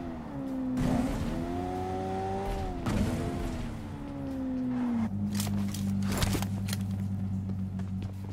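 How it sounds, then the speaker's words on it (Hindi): A buggy driving in the mobile battle royale game BGMI, its engine a steady droning hum that rises and falls in pitch as it accelerates, then settles into a lower idle-like tone, with faint game ambience around it. "उतने में एक और बग्गी आ जाती है"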